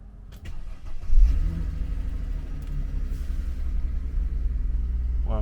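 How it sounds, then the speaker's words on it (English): A 2007 Mercedes CLK 350 Sport Convertible fires up on the key: brief starter cranking, then the engine catches with a low rumble and settles into a steady idle, close by. "She's just started up on the key there."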